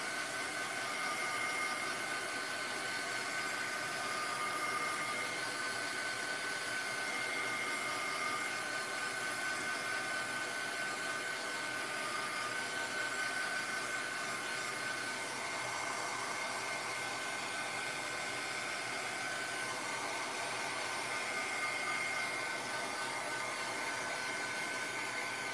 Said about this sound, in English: I need to hit this again with my heat tool.